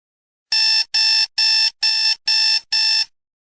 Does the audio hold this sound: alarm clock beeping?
yes